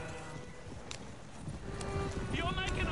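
Rapid hoofbeats of a galloping horse in Red Dead Redemption 2 thud steadily and grow louder toward the end, alongside faint background game sounds.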